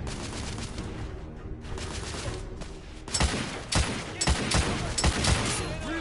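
Enemy shotguns blasting in the steampunk shooter The Order: 1886. After a few seconds of quieter battle ambience, a string of loud, booming shots rings out at irregular intervals, some close together.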